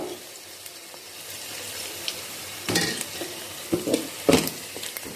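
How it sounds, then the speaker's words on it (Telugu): Onions and green chillies fry in a pan for a cassava mango curry, a soft steady sizzle that gives way to a few louder scraping stirs and utensil clatter toward the end; nobody talks. "ఉల్లిపాయలు ఫ్రై అయిపోయినాయి కదా పచ్చిమిరపకాయలు వేసుకున్నాం"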